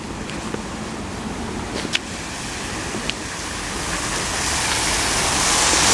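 Steady rushing water roars continuously, swelling slightly louder toward the end, with a couple of faint knocks early on.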